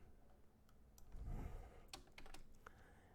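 Someone types an email address on a computer keyboard, a steady run of soft, close key clicks with a few sharper taps and a low thump in the middle.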